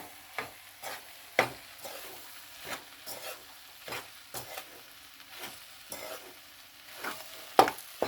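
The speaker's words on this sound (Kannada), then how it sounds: "ಇವಾಗ ಸ್ವಲ್ಪ ಕಲಿಸ್ತಾ ಇದ್ದೀನಿ" A spoon scrapes and stirs susla in a pan, with soft irregular strokes about once a second over a faint sizzle, close and quiet, with no voices.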